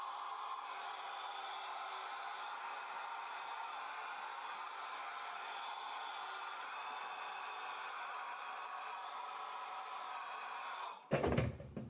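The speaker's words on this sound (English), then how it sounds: "I'm gonna put some heat on them with the blow dryer" A hair blow dryer runs steadily at close range, a constant whooshing fan roar with motor whine, heating items for about eleven seconds before it is switched off and a few clunky handling knocks follow.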